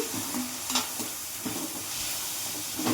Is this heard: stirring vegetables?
yes